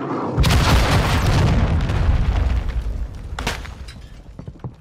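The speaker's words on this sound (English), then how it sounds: "Hostiles launched a cruise missile." Cruise missile strike in Call of Duty multiplayer, a loud, close, booming explosion with crashing debris that rumbles on and fades over several seconds, followed by a second, fainter blast.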